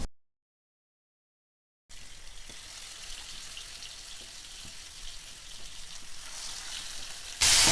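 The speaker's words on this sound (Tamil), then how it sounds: "இப்போ இதை நம்ம வறுத்து எடுத்துருவோம்." Marinated vanjaram fish fries in about 50 ml of hot groundnut oil in a pan, a soft, even crackling hiss that starts after a short silence and grows slightly louder toward the end.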